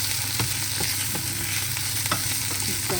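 Chopped onions are stirred into a pan of frying ginger and garlic, a steady close-up sizzle broken by the regular scrape and clack of a spoon against the pan.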